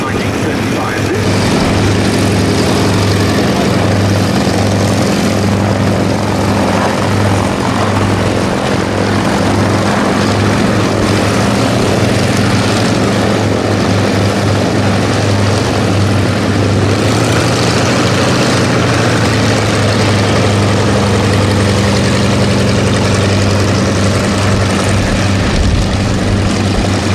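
Avro Anson propeller aircraft at a Duxford air show, a loud continuous engine drone with a steady low throb that persists unbroken throughout, and a voice faintly beneath it.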